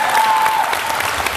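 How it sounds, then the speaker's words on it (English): A camp audience gives Stevie Taylor a round of applause, dense continuous clapping with a brief whistle near the start. "Let's give Stevie Taylor a round of applause"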